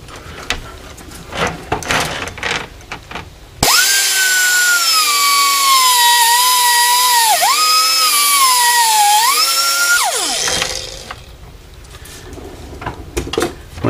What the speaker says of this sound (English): And what I use, cutoff wheel and a die grinder.